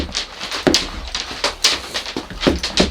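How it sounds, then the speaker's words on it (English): A dog barks and whimpers indoors during a scary-story night, with repeated sharp yelps and whines coming in quick irregular bursts, fairly close and loud. "Sorry if you can hear my dog, she's going crazy."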